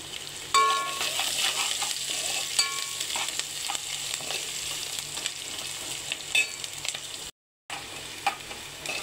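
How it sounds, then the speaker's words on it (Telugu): Curry leaves and carrot pieces fry in hot oil with a steady close sizzle, broken by stirring scrapes, with a brief gap of silence near the end. "కరివేపాకు రెప్పలు వేసుకొని కొంచెం వేగనివ్వాలి."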